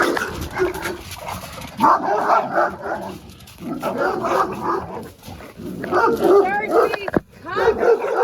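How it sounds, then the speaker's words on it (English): Dogs on a walk bark and yip repeatedly in short bursts, fairly close, mixed with whimpers, while a person talks over them. "the dog was there, apparently"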